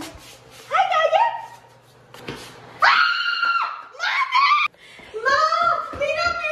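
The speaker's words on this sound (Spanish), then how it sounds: "¡Ya empezó a gritar!" A young girl screams repeatedly in shrill, rising bursts after having her hair dyed, with short pauses between cries and a voice mixed in.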